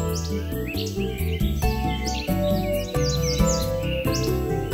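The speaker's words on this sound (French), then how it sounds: "on repart avec des oiseaux qui se réveillent après la pluie" Bird chirps and tweets, birds waking after rain, flicker over a steady bed of layered music, small calls scattered throughout rather than alone.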